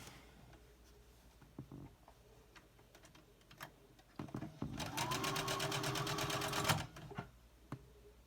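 A sewing machine stitches quilt blocks in a short, steady run of about two seconds, after a stretch of quiet handling and small taps of the fabric being lined up.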